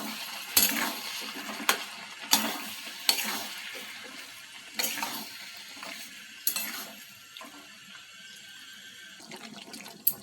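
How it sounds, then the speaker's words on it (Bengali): Mango pieces are stirred in a pan while making cherry tomato chutney, giving a soft sizzle broken by repeated scraping strokes of a spoon at a steady, unhurried pace. "এর মধ্যে আমগুলো দিয়ে দেব। ভালোভাবে নেড়ে নেব।"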